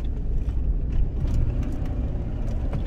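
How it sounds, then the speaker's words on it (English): A car with a worn right-side wheel bearing, heard from inside while driving as a loud, continuous low rumble and drone. "Usually that's the right side wheel bearing because you're putting all the weight of the vehicle on the right side at that point."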